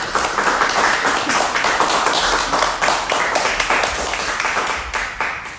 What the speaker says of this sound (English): Can you give a round of applause for Side Street Gallery?